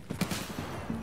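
Gunfire in the Escape From Tarkov shooter comes as a short, muffled cluster of several shots in quick succession, moderately loud and somewhat distant over a dull background.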